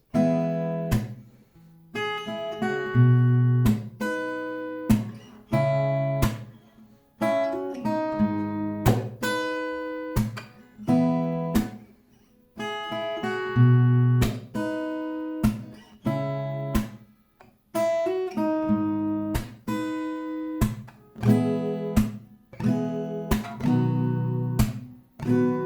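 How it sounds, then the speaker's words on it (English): An acoustic guitar plays a song at standard tempo, with loud, close strummed chords and sharp percussive slaps in a steady rhythm, broken by brief pauses between phrases. "if we speed up to standard tempo, it will sound like this."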